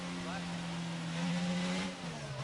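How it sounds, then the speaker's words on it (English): A race car engine drones at high, steady revs on the Abu Dhabi track during pre-season running, the pitch shifting slightly near the end, heard at a distance under commentary. "that car sounds so good"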